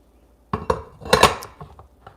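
A portafilter being locked into an X Bar espresso maker, giving a few sharp metallic clinks and clacks of metal on metal, close and fairly loud with nobody talking.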